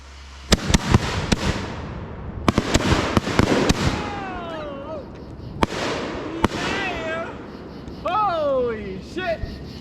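Independence Day fireworks finale with a rapid string of sharp, loud bursts and crackling pops close by, overlapping explosions in quick succession while people cheer and whoop between the blasts.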